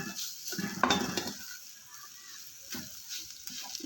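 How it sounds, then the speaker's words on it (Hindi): A spatula scrapes and stirs a potato and chicken filling in a hot pan, with short bursts of scraping and soft sizzling over a faint background hiss, ending in a few more gentle stirs. "इसको अच्छे से मिक्स कर लेंगे, बस बहुत ज़्यादा नहीं पकाना"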